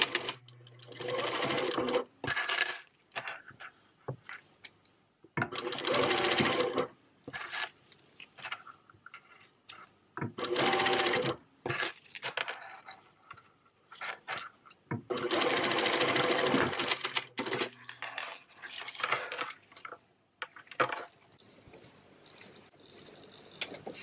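Sewing machine stitching coin purses and pouches, running in several loud bursts of rapid mechanical whirring with short pauses between seams, close and alone.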